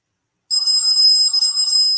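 A telephone rings through a loudspeaker, a bright electronic tone that starts abruptly after a short silence and holds steadily and loudly to the end.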